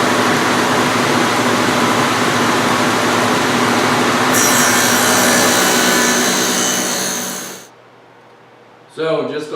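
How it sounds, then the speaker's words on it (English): A loud, steady table saw whine with a dado stack grinds through wood for several seconds, then spins down, followed by a brief clatter. "I've got my dado stack in the saw"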